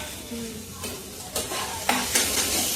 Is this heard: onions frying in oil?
yes